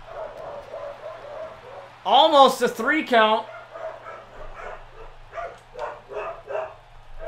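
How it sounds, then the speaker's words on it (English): Dogs bark in a quick burst of several loud yaps close by, then keep barking more softly in the background while someone talks over them. "I apologize for my dogs."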